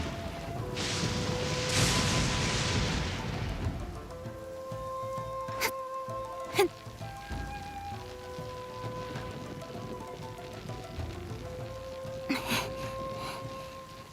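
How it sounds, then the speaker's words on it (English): A heavy downpour in Genshin Impact's Inazuma region, steady dense rain hiss with a low rumble of thunder early on, accompanied by soft game music tones and a few sharp clicks. "Quite a downpour."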